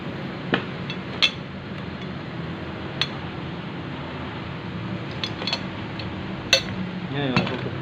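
A rubber bushing is hammered out with sharp metallic strikes, a handful spaced irregularly over a steady background hum, with a few lighter taps.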